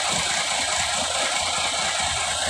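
A Hino bus engine idling, a loud, steady diesel rumble with a rattling vibration and broad hissing noise, close and continuous with no talking.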